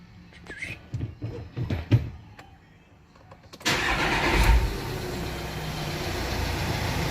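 Volkswagen Amarok pickup with a strange noise when the clutch pedal is pressed: quiet clicks and knocks first, then the engine suddenly loud and steady, running close by at a rough idle for the rest.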